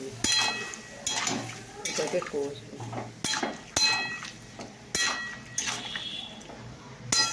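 Spices such as cumin and chili powder with a little water being stirred in a pan, metal utensil scraping and clinking in irregular bursts, close up, with a hum in the background.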